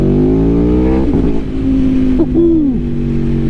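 Aprilia Tuono V4 Factory motorcycle, a 2021 model, revving in first gear: a loud, close engine drone that dips briefly and then climbs and falls in pitch, heavy wind noise throughout.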